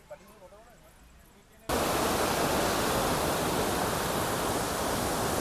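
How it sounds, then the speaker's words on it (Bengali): Waterfall at Ghatshila, water pouring down over rocks: after a short quiet stretch with faint background sound, a loud, steady broadband roar of falling water starts abruptly and continues unbroken, close and dominant. "এই যে ওয়াটারফলস এখানে নামছে জলটা"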